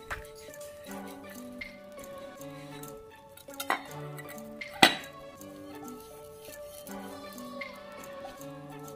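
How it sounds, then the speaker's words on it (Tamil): Ceramic serving bowls with lids clink and knock together as they are handled, with several sharp, bright taps and one louder clatter over faint background hum. "இது வந்து ஒரு செட் சர்விங் பவுல் மாதிரி வித் லிட்"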